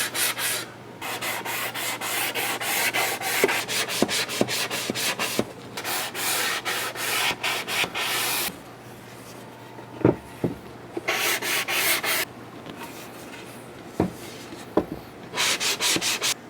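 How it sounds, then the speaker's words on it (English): Rhythmic scratchy strokes of a 3M fine sanding block rubbing on wood, in steady bursts with short pauses and a few light knocks. "This is a 3M fine sanding block."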